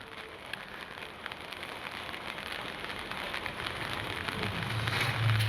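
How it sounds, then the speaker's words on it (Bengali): Rain falls steadily outdoors, a dense, even patter on surfaces that grows slightly louder toward the end, with no voices. "বৃষ্টি পড়ছে তবুও কি করার আছে।"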